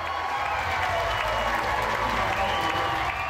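A dense rally crowd claps and cheers steadily as it waits to welcome Donald Trump, a continuous loud wash of applause with no break across the few seconds.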